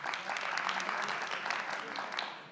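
Studio audience at a Family Feud-style game show breaks into loud, dense applause lasting a couple of seconds, then tapering slightly at the end.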